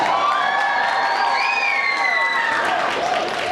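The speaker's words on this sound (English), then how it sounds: "Give her a round of applause, guys." A crowd applauding and cheering loudly, with whoops and high shouts rising over steady clapping throughout.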